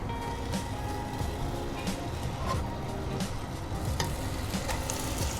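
Sweetened condensed milk boiling in a pan gives a continuous low bubbling sizzle, soft and steady, with occasional light scrapes of stirring.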